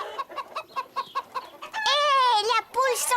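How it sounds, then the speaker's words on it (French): Cartoon hen from Caillou clucking in a quick series of short, rhythmic clucks, then breaking into a longer, drawn-out squawking call, close and clear with no talk over it. "Hé, la poule s'en va!"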